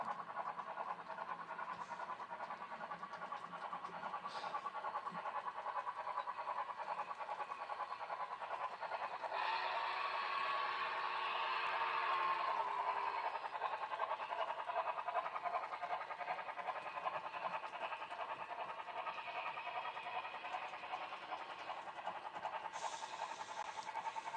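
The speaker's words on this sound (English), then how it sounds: "You can pretty much feel the sound out of the tsunami locomotives." Continuous rhythmic chuffing from a model train locomotive fitted with a Tsunami sound decoder, a steady pulsing exhaust beat with a brief whistle-like tone midway, heard without speech.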